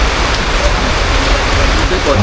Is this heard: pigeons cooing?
no